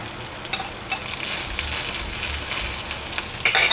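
Onion, garlic, curry leaves and chillies sauté in oil in a pan for a horse gram dish, with a continuous close sizzle, occasional stirring scrapes and a louder crackle at the end.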